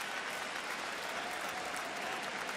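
A stadium crowd applauds at an NFL preseason game between the Detroit Lions and Atlanta Falcons, a dense, steady roar of clapping that fills the whole stretch at an even level, with no talking.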